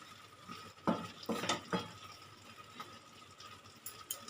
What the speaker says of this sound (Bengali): একটু নেড়ে নিলাম গরম মশলা দিয়ে